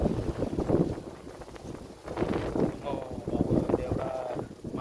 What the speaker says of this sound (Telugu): గాలి మామూలుగా లేదు